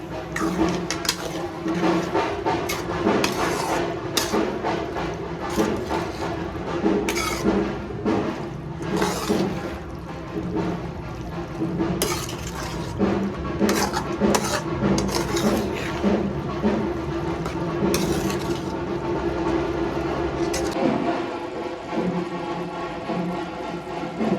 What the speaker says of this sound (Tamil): லைட்டாக மிக்ஸ் பண்ணி கொடுத்துடலாம்.